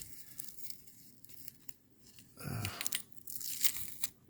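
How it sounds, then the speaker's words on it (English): A short ripping, tearing sound of tape pulled off a purse's fabric, close by, with crinkly handling noises around it. "Let's remove this tape."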